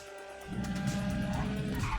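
A car skids under the handbrake in GTA 5, a loud sustained tire screech and engine roar that rises abruptly after a quiet opening and carries on to the end.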